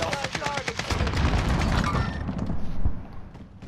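Gunfire in Call of Duty Modern Warfare zombie royale, with rapid automatic bursts crackling close then fading into scattered distant shots, while players talk over it.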